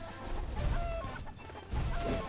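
A hen clucks in the What The Hen! video game. Two short bursts of clucking rise over steady game background noise.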